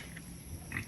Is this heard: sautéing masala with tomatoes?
no